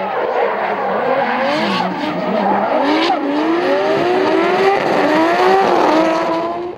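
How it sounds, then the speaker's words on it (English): Drift cars, a Nissan 180SX and a Nissan Skyline, skid at Manfeild Raceway in a New Zealand drifting competition. Loud tire squeal and engine revving rise and fall continuously over the whole stretch. "Battling Joe Marshall in the top 16, the little Evergreen Tyres 180SX couldn't shake off the big V Energy Skyline."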